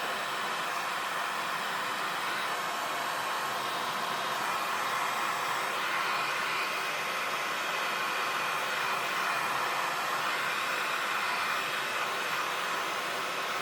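A heat tool dries splattered ink on a handmade card, blowing a steady, continuous whooshing roar that stays close and even in loudness throughout, with no talking.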